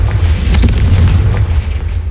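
A Confringo blast spell explodes in the video game Hogwarts Legacy, a loud, sustained booming burst with a heavy low rumble that fills the whole stretch without any talk.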